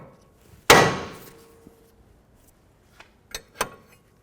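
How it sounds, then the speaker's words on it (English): Metal hammer striking the ball joint shaft on a 2008-2012 Jeep Liberty front knuckle: one loud, ringing clang with a brief resonant tail, then a few lighter taps and two sharper knocks near the end, close up. "I like to leave that nut just a little bit on the ball joint shaft before I hit it to pop it out"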